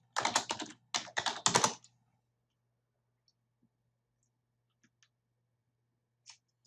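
Typing a username and password on a computer keyboard: two quick bursts of close key presses, followed by near silence with a few faint isolated clicks.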